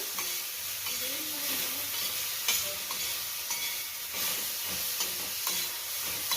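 Bitter gourd with garlic, jaggery and tomato fries in a pan, a steady sizzle with repeated scraping stirs of a spoon, close up and without talk.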